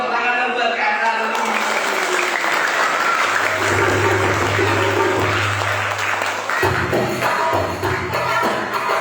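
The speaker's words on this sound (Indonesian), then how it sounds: "Kasih tepuk tangan buat Kak Charlie" Children applaud together for Kak Charlie at a storytelling session, a dense, loud burst of clapping with a low steady tone running under it partway through.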